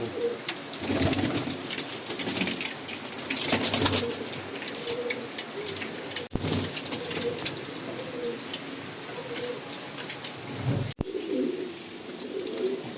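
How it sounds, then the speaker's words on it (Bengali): Pigeons coo steadily in a loft full of good-quality birds kept for sale, a soft continuous murmur of overlapping calls with wing flutters and movement close by, and no talking. "খুব ভালো ভালো কিছু পায়রা এখানে রয়েছে"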